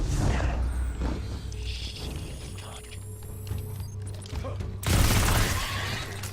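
A grenade explodes in a first-person shooter game, a loud broadband blast bursting in near the end over steady low game rumble and mechanical background noise.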